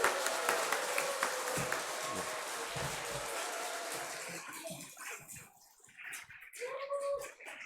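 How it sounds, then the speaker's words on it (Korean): Congregation in a Korean Presbyterian church applauding to welcome a pastor to the front during an evening praise service, a broad wash of clapping that thins out and fades, with brief tonal sounds near the end. "박수로 환영하겠습니다."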